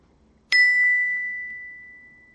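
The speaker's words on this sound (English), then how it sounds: "I clicked the one that makes the beeping sound." A single bright electronic ding from a clicked Zoom button rings out sharply and then fades slowly over about two seconds, with faint background murmur beforehand.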